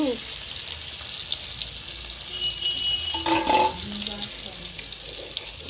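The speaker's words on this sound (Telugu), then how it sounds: "వేడి వేడి ఆయిల్లో లెగ్ పీస్ ఇలా వేసుకొని మంచిగా డీప్ ఫ్రై అయ్యాక" Chicken leg pieces deep fry in hot oil for biryani, a steady close sizzle with a brief louder bubbling burst midway and faint background voices.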